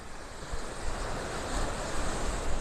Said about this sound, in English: The wind coming out of the north.